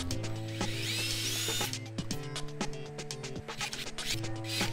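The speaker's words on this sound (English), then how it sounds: "I drilled some small holes in the lid around the socket to allow any built-up heat from the light to escape." A power drill boring small holes in a metal mason jar lid, a steady whining motor with stepped pitch shifts and grinding bursts, loud and continuous at close range.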